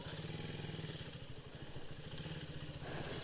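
A Raider 150 fi motorcycle engine runs in low gear close by, a steady fast-pulsing putter that holds even throughout with no voices.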